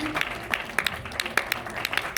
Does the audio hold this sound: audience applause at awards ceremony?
yes